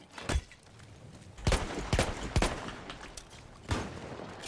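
Gunfire in a video game shooter: a handful of sharp shots spaced unevenly, a few loud and close with brief decays, others softer, over a low game ambience.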